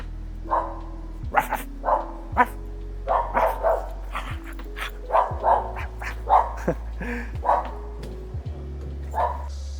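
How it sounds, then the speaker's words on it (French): A dog in an abandoned shopping mall in China barks repeatedly in short, irregular bursts with a few yips mixed in. The barks are moderately close and echo over a low steady hum. "Oh, il y a un chien."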